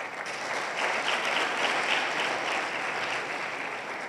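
An audience gives steady, sustained applause in honour of students and their teachers, a full, even roll of clapping from a sizeable room that swells slightly in the middle, with no talking.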